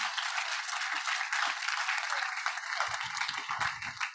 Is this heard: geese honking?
no